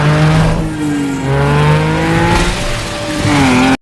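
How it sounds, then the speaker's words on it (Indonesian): A film prop car rams through a casino exit door in a loud movie scene, its engine roaring and revving with squealing tires throughout before the sound cuts off abruptly. "mereka bertiga menabrakkan mobil properti perusahaan film ini ke pintu keluar kasino"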